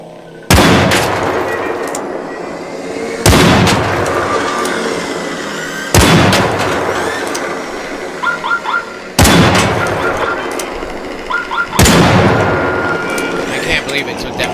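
Gunfire and explosions in the video game Arc Raiders: five loud, close blasts at steady intervals of about three seconds, each with a long rumbling decay, and a few faint rapid shots between them.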